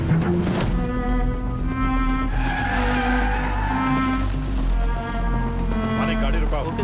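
A jeep skids to a halt with a long screech of tyres under a roaring engine, a loud movie sound effect blended with background music and voices.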